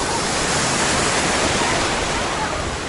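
Ocean surf at a beach near Santa Monica roars as a loud, constant wash of broadband noise with no distinct breaks between waves and no talk.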